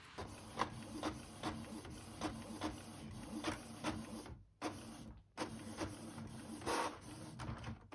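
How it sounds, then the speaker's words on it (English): A home printer runs off a book cover, its print head shuttling back and forth in a steady rhythm of mechanical passes, with two brief pauses, close and fairly loud. "I printed out the cover just on my normal like home printer"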